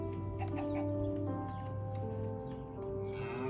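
Cartoon chickens clucking in a Minecraft animation, set against a steady bed of background music that runs loud and continuous through the whole stretch.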